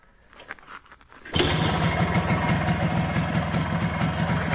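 A WSK 125 motorcycle engine fitted with a Dellorto PHBG 21 carburetor catches and runs steadily at close range, a loud, even two-stroke drone that holds after quiet rustling at the start.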